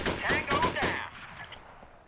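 Machine gun fire in the SOCOM video game: a cluster of close, rapid automatic bursts in the first second, then trailing off into quieter background noise.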